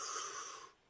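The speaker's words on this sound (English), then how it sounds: "let's take a deep breath" A single deep breath drawn in close to the microphone, a steady airy rush lasting most of a second before tapering off into quiet.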